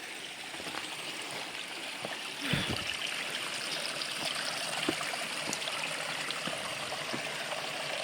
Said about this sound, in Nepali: हेर्न सक्नुहुन्छ पानीको बहाव